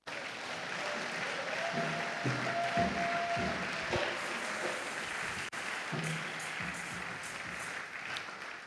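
A church congregation applauds to acclaim God, sustained clapping from a crowd over several seconds at moderate distance, with a few voices calling out beneath it.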